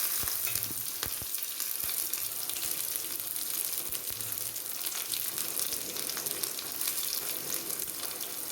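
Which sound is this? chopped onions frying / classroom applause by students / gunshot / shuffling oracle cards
chopped onions frying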